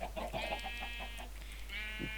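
Minecraft chickens clucking in short repeated bursts inside a farm pen, several animals close together, moderately loud with no talk over them.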